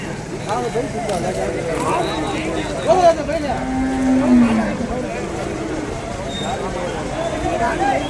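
Cattle low at the Vaniyambadi livestock market, with several drawn-out moos rising and falling over a dense crowd babble and people talking nearby.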